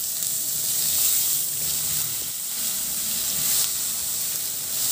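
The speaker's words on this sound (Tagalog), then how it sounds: "At isunod ko na rin dyan yung sibuyas. Ihalo lang din hanggang sa maluto lang din yung sibuyas." Onions sautéing in a pan for a pork pata dish give off a soft, steady sizzle and hiss with a faint constant hum beneath, close and fairly even.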